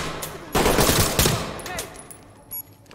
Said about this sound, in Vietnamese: thấy tiếng súng cứ nhao nhao dạ